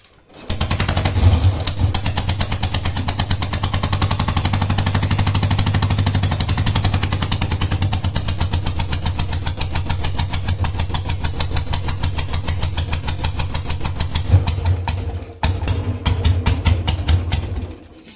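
An old Royal Enfield Bullet motorcycle running with no silencer, a loud rapid thumping exhaust beat at steady idle for most of the clip, with a short dip near the end before it resumes.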